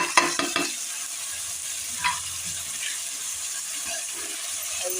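Chopped tomatoes fry in a pan with a steady sizzle, a couple of stirring scrapes near the start and a soft hiss continuing throughout.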